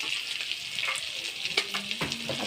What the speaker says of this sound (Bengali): আর ওপাশে আমার পুঁটি মাছগুলো তেলের উপর দিয়ে দিছি ভাজি করার জন্য